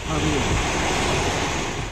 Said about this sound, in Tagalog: malakas din ang hampas ng alon sa dagat